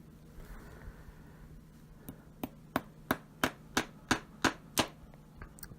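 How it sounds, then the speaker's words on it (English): Steady hammer taps on nails, about ten sharp strikes in an even rhythm that grows firmer after a few tentative hits, close and clear. "now you get to see how shitty I am at hammering"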